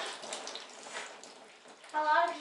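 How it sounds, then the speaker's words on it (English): Splashing water rushes steadily during a photo shoot and swells louder near the end, with voices chatting over it. "It's splashing that far?"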